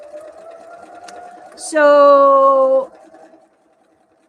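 A sewing machine runs in one steady burst of about a second, stitching quilt fabric pieces together as leader-ender piecing, with a quiet voice talking before and after.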